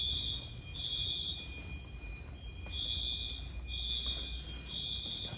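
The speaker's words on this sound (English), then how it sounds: "that alarm is loud" A home security system alarm sounds in repeated shrill electronic beeping bursts over a steady tone, moderately loud against a low background rumble.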